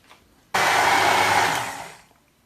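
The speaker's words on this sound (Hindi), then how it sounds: "इसको हमने ब्लेंड करना है।" A kitchen blender whirs loudly while blending white garlic sauce for chicken shawarma, starting abruptly, holding a steady roar for about a second and a half, then winding down.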